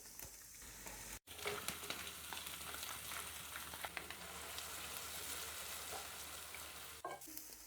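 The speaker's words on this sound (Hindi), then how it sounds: "दो से 3 मिनट के लिए हम प्याज को भी रोस्ट कर लेंगे।" Onion paste, blended from two onions, roasts in a karahi for a white chicken karahi, giving a steady close sizzle and frying crackle with stirring scrapes, a brief break near the start, and no voices.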